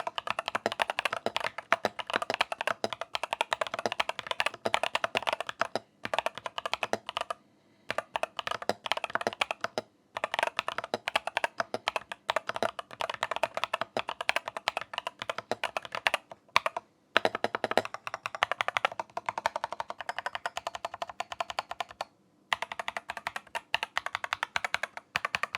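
Typing on an Epomaker TH80 Pro mechanical keyboard in barebones form: a dense, steady clatter of close keystrokes, with a few brief pauses between bursts and no talking.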